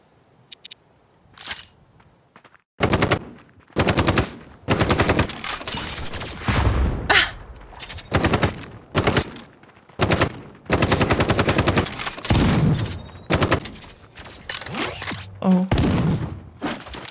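Automatic gunfire in the video game Death Trash, loud repeated bursts of rapid shots with short pauses between, dense and continuous through most of the stretch.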